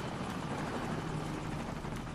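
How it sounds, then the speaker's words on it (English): Helicopter in the PC game Call of Duty 4, a steady loud rotor roar with dense broadband noise and low throbbing, continuous for the whole stretch with no talk. "Helicopter, run away!"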